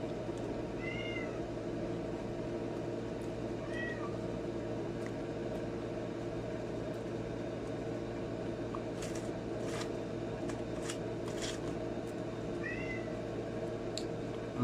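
A cat meows three times, spaced a few seconds apart, each a short rising-falling cry over a steady background hum and faint clatter.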